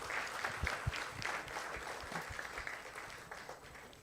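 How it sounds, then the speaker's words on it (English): Alumni reunion audience in an IIT Madras auditorium applauds a guest, a moderately quiet, steady wash of many hands clapping that slowly tapers off, with a few sharper close claps. "please give a round of applause to TDJ"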